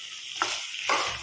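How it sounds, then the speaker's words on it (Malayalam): Potatoes sautéing in hot oil for a Spanish omelette, a continuous close sizzle broken by two short stirring scrapes. "ഇത് എണ്ണ ചൂടായിട്ടുണ്ട്. ഇതിലിട്ട് ഒന്ന് വഴറ്റിയെടുക്കാം."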